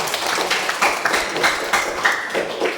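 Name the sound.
applause for group two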